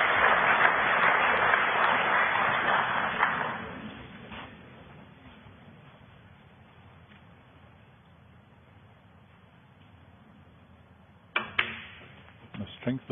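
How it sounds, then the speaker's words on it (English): Applause rises from the crowd at a snooker semi-final in Australia and fades away over a few seconds, followed by near silence broken by a few sharp clicks of the balls. "That applause there, you just get the feeling the crowd is swinging behind the underdog here"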